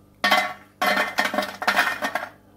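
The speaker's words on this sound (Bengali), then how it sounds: "শব্দতেই তোমরা বুঝতে পারবে কতটা এটা খাস্তা হয়েছে" Crispy fried nimki clinks and rattles against metal as a batch is lifted out, in three close, bright bursts of jangling with brief pauses between.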